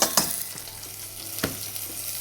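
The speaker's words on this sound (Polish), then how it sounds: "Chwilkę to smażę" Soft, steady sizzle of thick leek pieces frying in clarified butter, with a few sharp crackles and pops, fairly quiet and close, no voices.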